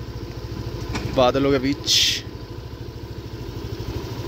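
A motorcycle engine runs with a steady, throbbing pulse as it rides along the hill roads near Mussoorie, close and continuous, while someone speaks briefly over it.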